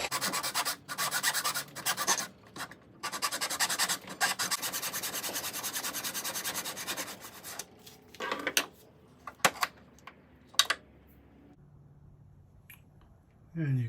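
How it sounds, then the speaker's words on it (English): A double-blade hacksaw cuts steadily through a segmented guitar pen blank, giving a dense, continuous close rasp for about eight seconds before it breaks into scattered clicks and light handling noises. "Then we go to the hacksaw with the double blade."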